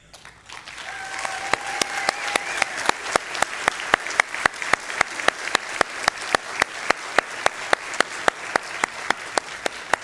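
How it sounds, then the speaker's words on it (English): An audience at a sheriff's office awards ceremony breaks into applause, first scattered and then settling into loud, rhythmic synchronized clapping at a steady beat, with a few voices calling out early on. "Will those mentioned please stand for applause?"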